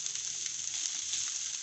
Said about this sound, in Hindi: अब हम इसमें ये चिकन डालेंगे, इसको थोड़ा मिक्स करेंगे